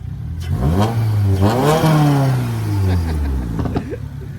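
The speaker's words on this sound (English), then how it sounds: "Oh, cool, he's giving us a little bit of a rev." A Honda car's engine revs at a cars-and-coffee meet in Miami, rising and falling loudly up close in a few surges, with people talking nearby.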